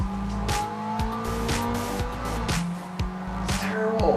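Stanced Miata in the racing game GT6 with engine drone and repeated tire squeals as its brakes lock up, steady and loud with rhythmic skid bursts, no talk.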